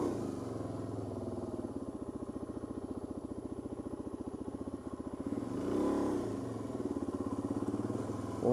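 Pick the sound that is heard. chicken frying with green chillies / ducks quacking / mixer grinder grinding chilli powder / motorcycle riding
motorcycle riding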